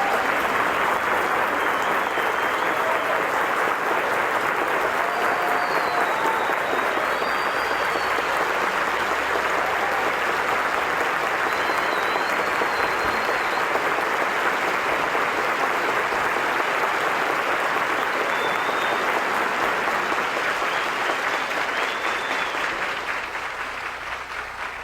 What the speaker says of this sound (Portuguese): peço aos senhores formandos, senhoras formandas, que com vigor aplaudam as suas